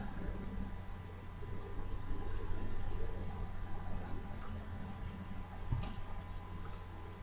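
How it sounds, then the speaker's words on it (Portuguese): A computer mouse clicks a few times over steady background hiss, including a quick double-click near the end, each click faint and short with no talking. "E aqui também é um duplo clique"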